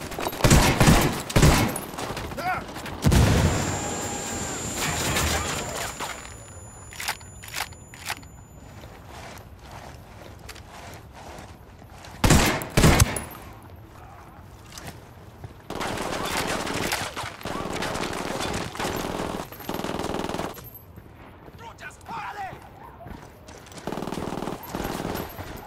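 Gunfire in the tactical shooter Ghost Recon Wildlands comes as scattered bursts and single loud shots spread across the stretch, with quieter ambient gaps and some movement between volleys.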